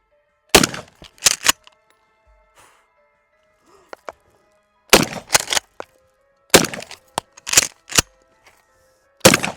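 A Mossberg 500 12 gauge pump shotgun fires at a chair outdoors, with loud sharp blasts arriving in clusters of two or three, separated by quiet pauses and faint background hum.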